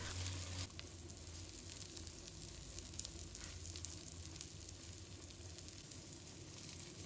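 Tofu pan-frying in oil until golden, a continuous crackling sizzle at close range with faint scattered pops and no talk.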